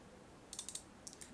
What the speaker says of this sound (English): if I press the quotation mark on my keyboard